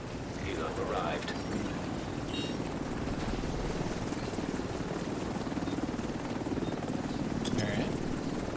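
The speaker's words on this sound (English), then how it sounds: "Helo arrived." Extraction helicopter arriving in The Division 2, a steady loud rotor thrum with buzzing engine noise filling the whole stretch, with game voices and effects over it.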